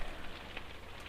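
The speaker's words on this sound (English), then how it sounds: "So yeah, rain, lots of rain." Steady patter of rain drumming on an RV roof, a continuous hiss with occasional sharper drips, close by and alone.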